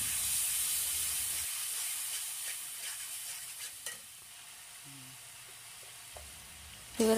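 Water poured into a hot pan of sizzling chili powder, turmeric and black coriander seed, giving a loud hissing burst that fades into quieter simmering with occasional clinks and stirring scrapes nearby.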